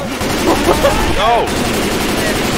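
Gunfire in Left 4 Dead 2 crackles steadily in a dense, loud stretch under chaotic game noise, and a brief voice cuts in partway through.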